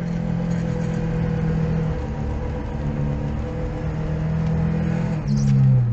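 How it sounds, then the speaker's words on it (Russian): An off-road car's engine strains at its limit in deep snow, in second low-range gear with the center differential locked, a steady loud droning hum that rises at the end. "Здесь, как вы слышите, что мой автомобиль уже на пределе работал, вторая пониженная, межосевой заблокированный, и пытался бить."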